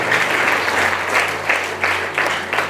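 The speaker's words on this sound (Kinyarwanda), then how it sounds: "tugomeye amashyi mu izina ryacu" A church congregation applauding during a year-end prayer service, bursts of clapping that swell and ease in waves, fairly loud and crowd-filled, with no voices over it.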